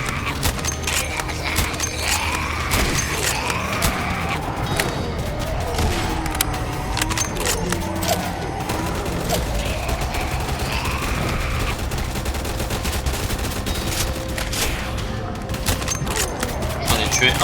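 SV-98 sniper rifle shots ring out in Roblox Zombie Uprising, repeated sharp cracks over dense game noise and swirling effects, with someone talking throughout.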